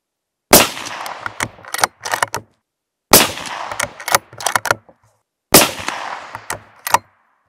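Three loud shots from a Mauser M12 Impact rifle spaced a few seconds apart, each sharp crack trailing into echo and followed by clicks and handling noises.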